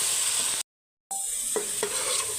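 Onions and chopped green chillies fry in a pan, a steady broadband sizzle interrupted by a brief dropout, with a few soft stirring scrapes near the end; no talking.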